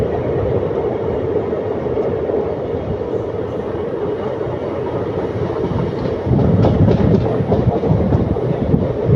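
A passenger train running on the rails between Erode and Ernakulam gives a continuous loud rumble with faint clicking wheel noise, heard from on board and growing louder toward the end, with no voices.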